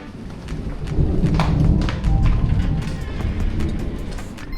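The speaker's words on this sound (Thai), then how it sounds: "ฟ้าร้องเสียงงเวอร์" A deep, rolling rumble of thunder swells and lingers over steady rain hiss, loud and continuous, with scattered drops pattering close by.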